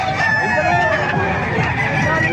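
A rooster crows loudly and close by, with other fowl clucking and crowing around it in a busy, noisy chicken market yard in Calumpit, Bulacan.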